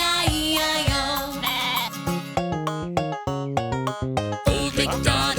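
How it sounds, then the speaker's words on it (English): A sheep bleats in a children's nursery rhyme song, its wavering cries repeated loudly and steadily with musical accompaniment, each call clear and close. "And on this farm he had a sheep"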